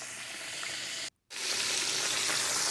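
Pork chops frying in a very hot pan for smothered pork chops, a loud close steady hiss and crackle that cuts out for a brief moment midway, then resumes slightly fuller, with no voices.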